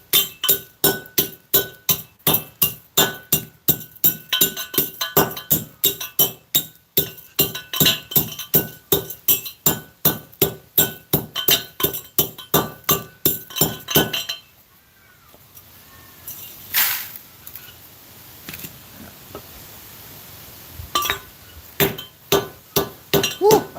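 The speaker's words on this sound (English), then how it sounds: "when you hear a ting, that's what I mean, a piece of quartz is containing the gold" Gold-bearing quartz ore being crushed, a rapid, steady run of sharp glassy clinks and tings from repeated hammer-like strikes, a brief lull with scattered tings, then the rhythmic impacts resume.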